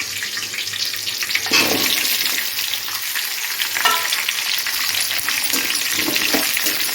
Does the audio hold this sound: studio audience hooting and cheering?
no